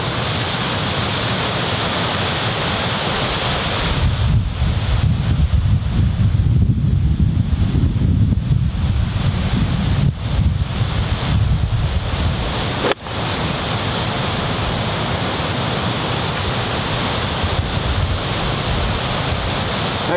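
Steady wind rushes across the York Downs golf course and roars against the microphone for a long stretch, swelling and easing slightly, with one brief knock partway through.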